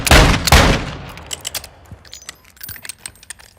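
Akimbo revolvers fired in Call of Duty Warzone DMZ, two loud sharp shots close together at the start followed by a scatter of fainter clicks, clinks and distant pops as the gunfire trails off.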